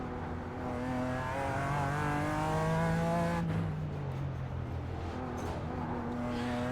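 A BMW M4 G82 GT4 Evo race car's engine in iRacing at the Belle Isle street course, droning steadily and close, with the pitch climbing and then dropping as it shifts and revs through corners.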